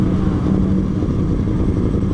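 A super naked sports motorcycle with a loud aftermarket exhaust runs steadily close by, a deep rumbling engine note that holds throughout without a break or any voices.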